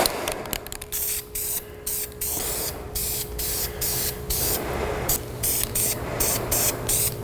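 Aerosol spray paint with a hammered finish being laid onto car front-end backing plates, heard as repeated hissing bursts of varying length with short pauses between them, close and loud.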